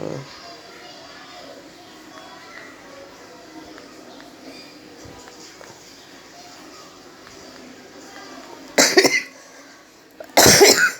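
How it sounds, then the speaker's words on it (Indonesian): Two sharp, loud coughs near the end, after a stretch of quiet low-level background noise. "aku batuk lagi"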